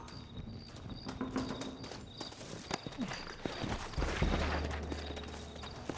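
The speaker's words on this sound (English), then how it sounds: "Looks like Carlos left us some horses." Horse hooves clip-clop along at a steady pace amid busy ambience in the video game Red Dead Redemption, with scattered thuds and a rumbling low tone building toward the end.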